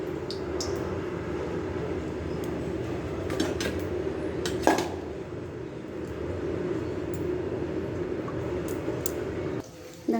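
Chuna fish frying in hot oil in a home kitchen, giving a steady close sizzle and crackle with occasional clinks of utensils against the pan.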